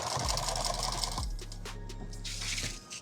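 A sewing machine stitching a bag runs in a fast whirring burst, then slows to a lower mechanical hum with faint clicks near the end.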